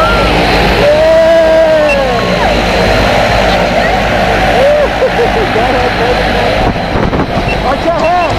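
An airplane engine roars loudly and steadily at close range inside the aircraft before a skydive at Taft, with people talking and shouting over it throughout.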